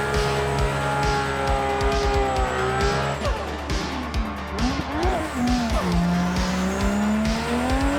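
BMW E46 drift car in the racing game Assetto Corsa, its engine revving loudly and steadily with pitch sweeping up and down through gear changes, alongside tire squeal and skidding noise throughout.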